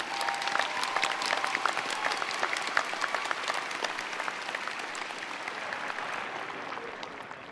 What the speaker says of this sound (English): Can we have one more round of applause for our advanced degree graduates?